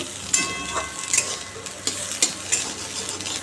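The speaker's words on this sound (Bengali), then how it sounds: "এখন নিম আলু ভাজছি" Neem leaves and potatoes fry in a pan with steady crackling sizzle, punctuated by repeated scraping stirs of a utensil, fairly close and unaccompanied by talk.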